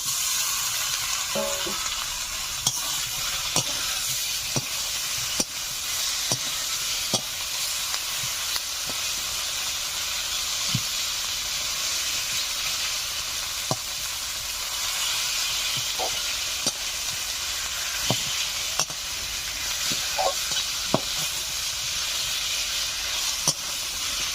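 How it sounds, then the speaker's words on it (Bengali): Fried rohu fish heads sizzling in a spice paste in a village kitchen, a steady bright hiss throughout, broken by regular soft scrapes and knocks from stirring. "এখন ভেজে রাখা মাছের মাথাগুলোকে মশলার উপরে দিয়ে আরো কিছু সময় ধরে আমি কষে নেব"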